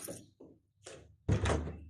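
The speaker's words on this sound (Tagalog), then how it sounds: "ilak natin ang ating pinto" A door is opened indoors in a Dubai home, heard as a few soft mechanical clicks and thunks from a handle and latch, then a louder swinging rush close by, all fairly quiet.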